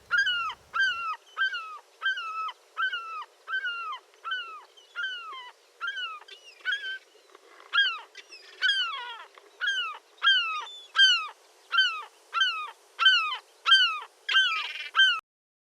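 Herring gulls calling in a long series of loud, repeated yelping cries, steady and rhythmic, with a brief overlapping squabble midway and clear, close calls throughout with no talk.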